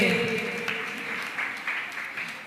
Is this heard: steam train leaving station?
no